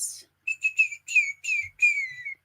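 A person whistles a short tune alone, with several bright sustained notes and a sliding phrase over a couple of seconds, close and clear with no talking.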